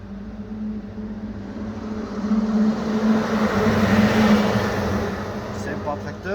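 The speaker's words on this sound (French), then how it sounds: "C'est pas un tracteur, c'est un camion." A truck passes outside, its engine rumble swelling over a few seconds and then fading, heard from indoors beneath a steady low hum.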